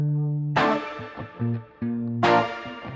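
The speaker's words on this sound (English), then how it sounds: "Just taking those couple of guitar hits and a nice reverb, making it sound a little dirty afterwards" Two loud, distorted reverb stabs on electric guitar hits with long reverb tails, separated by a quieter sustained guitar line with short plucked notes in between.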